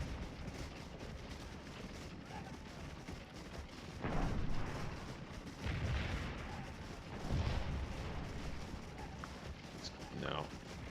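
Troops firing guns on a battlefield in the Scourge of War game during a cavalry fight, with distant artillery-like booms and rattling musket volleys over a steady rumble, while a voice talks.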